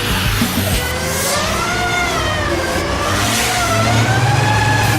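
A 2,400-horsepower triple-turbo truck engine revs hard during big rig drifting, a loud sustained roar with rising and falling pitch sweeps and no speech over it.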